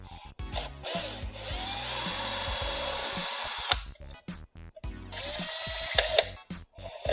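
A power drill with a sharp bit whines and bites during a fuel pump install on an N54 BMW 135i. It runs continuously for about four seconds, then in short, choppy bursts, close to the microphone.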